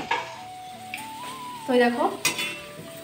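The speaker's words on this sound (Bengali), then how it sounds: "আমি আলুগুলোকে ভেজে নিচ্ছি" Potatoes frying in spice masala sizzle softly while a spoon stirs and scrapes the pan in short bursts, with a voice speaking briefly over it.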